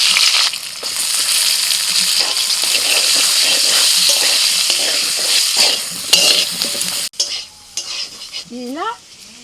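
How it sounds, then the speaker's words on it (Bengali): Brinjal frying in oil with salt and turmeric in a kadai, a steady loud sizzle with stirring and scraping throughout, then dropping away near the end to quieter clinks and a brief voice. "কড়াইতে তেলের মধ্যে একটু লবণ আর হলুদ দিয়েছি দিয়ে দিচ্ছি বেগুন"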